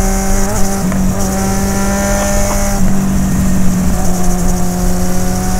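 A Suzuki Bandit 650 motorcycle fitted with a quickshifter runs under steady, loud engine drone while riding, the pitch stepping briefly as gears shift with barely a break in power.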